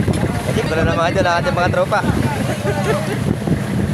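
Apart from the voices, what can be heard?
strong wind and waves at sea on a fishing boat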